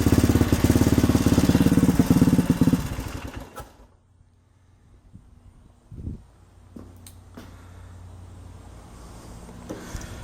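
A motorcycle built from a 1982 Suzuki SP500 and a 1999 Yamaha YZ400F engine runs for about three seconds and then cuts off. Near-quiet follows, broken by a few faint clicks and clatters.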